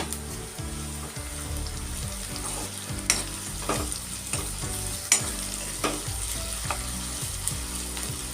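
Chopped onion, garlic and ginger frying for a mutton curry, a steady close sizzle broken up by repeated scrapes and clacks of stirring, with a few sharper knocks against the pan and no talking.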